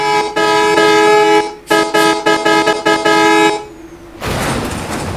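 A vehicle horn in a bus-driving video game honks in a long blast, then a rapid series of short toots, followed by a rushing burst of engine or wind noise.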